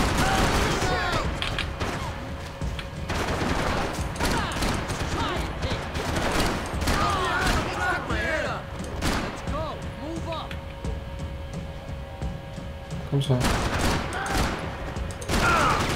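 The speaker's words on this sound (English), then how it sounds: "Gunfire over Hoboken." Bursts of Max Payne 3 gunfire crackle throughout, with repeated sharp shots over a busy mix of music and effects, while voices speak intermittently.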